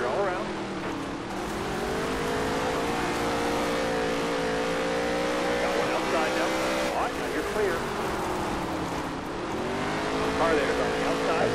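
NASCAR Heat 3 race cars roar past in a sustained engine drone with rising and falling pitch as they pass, loud and continuous throughout, with game engine whine dominating.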